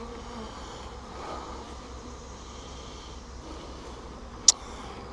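Honey bees buzz steadily around an open nuc hive during a transfer, a dense, even drone close by, with one brief sharp click near the end.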